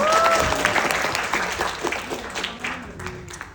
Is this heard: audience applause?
yes